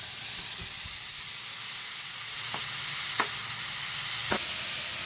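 Cut-up steak pieces sizzle on a Camp Chef griddle, a loud continuous frying hiss broken by a few sharp pops and spatula clicks.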